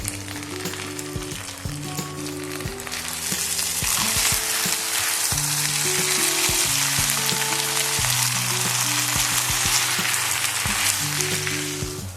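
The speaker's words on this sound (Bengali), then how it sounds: "স্টার ফ্রাই করা হয়ে গেছে আমার সমস্ত সবজিগুলোকে দিয়ে" Mixed vegetables stir-frying for Kolkata-style chicken chowmein, a loud, dense sizzle that swells after a few seconds, with repeated spatula scrapes and knocks against the pan throughout.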